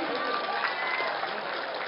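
Applause from an audience at a political rally in Assam, a steady continuous wash of clapping and crowd noise filling the whole moment at even loudness.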